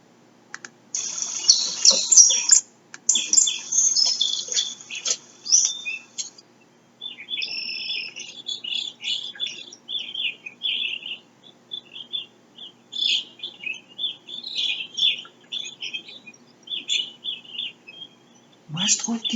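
Evening grosbeaks singing, a busy stream of high chirps and squeaky calls in irregular bursts, fairly close and continuous, with a brief low sound at the very end.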